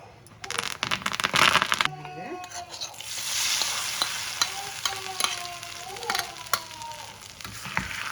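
Dry red chillies and curry leaves crackle and sizzle in sunflower oil for a tempering, with a sharp burst of spattering early on settling into a steady fry and scattered pops, while a voice talks and music plays underneath.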